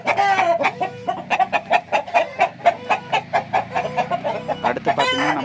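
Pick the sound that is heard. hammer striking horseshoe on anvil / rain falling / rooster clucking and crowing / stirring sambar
rooster clucking and crowing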